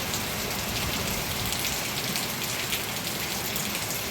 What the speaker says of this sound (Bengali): যত বেলা হচ্ছে তত বৃষ্টিটা আরও বেড়ে চলেছে, মানে কি বলবো, হাওয়াটা একটু কম হচ্ছে কিন্তু বৃষ্টি হচ্ছে, প্রচণ্ড বৃষ্টি হচ্ছে